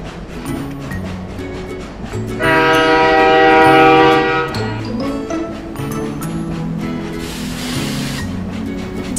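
A cartoon toy train runs along with a steady rumble and a loud, sustained horn blast partway through, then rolls on more quietly; no talking.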